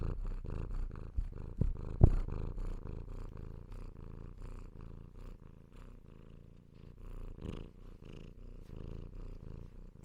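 A domestic cat purrs right against the microphone, a close, low rhythmic rumble pulsing steadily for several seconds with a brief bump of handling noise and no talking.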